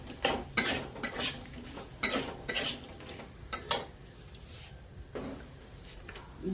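Chopped tomatoes and salt being stirred in a pan for a Bengali vegetarian potato and pointed gourd curry, with sharp spoon-on-metal scrapes and clinks at an uneven rhythm over a faint background, no talk.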